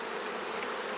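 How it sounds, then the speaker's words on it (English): Dense, steady buzzing of many honey bees inside a strong, busy hive, close and continuous with no pauses and no voices. "There's a lot of bees in here"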